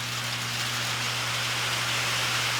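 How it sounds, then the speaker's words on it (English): Rain drums on a patio roof as a steady, even wash of dense hiss with no breaks, fairly loud and continuous under a low constant hum. "You can hear the rain hitting the roof over there"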